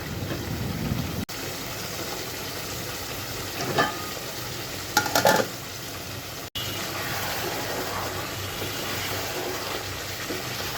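Beef being stir-fried and browned in vinegar in a pan, a steady close sizzle with scraping and stirring throughout, briefly broken by a couple of clatters.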